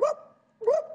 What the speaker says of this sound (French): Faudra un son de chien kabyle, tu vois.